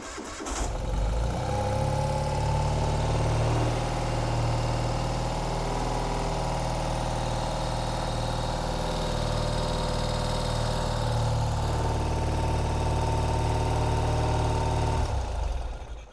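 A 2020 Ural motorcycle engine cranks and catches, then settles into a steady, loud, low idle that holds close by before cutting off abruptly.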